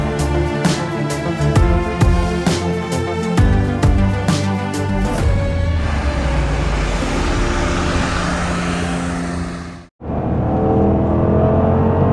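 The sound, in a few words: Porsche 4.8 V8 engine burbling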